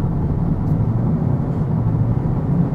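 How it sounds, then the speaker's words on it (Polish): A Toyota Corolla TS estate with a 2.0 Hybrid Dynamic Force engine and e-CVT drones steadily from inside the cabin as it accelerates, a loud, even low rumble with no voices. "hałas tego silnika, tak, będzie tak w momencie, kiedy będziecie przyspieszali"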